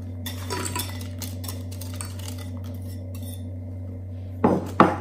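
Crushed Oreo biscuits are mixed in a bowl, giving light scraping and clinking over a constant low electrical hum. Two sharper knocks of utensil against bowl come at the end, with no talking.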